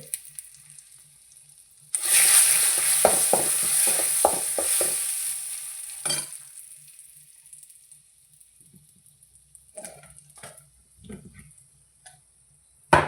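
Mustard seeds sputter and crackle in hot oil with turmeric powder for a Kerala ash gourd moru curry: a loud burst of sizzling popping for about four seconds, then fading to scattered light crackles and clinks.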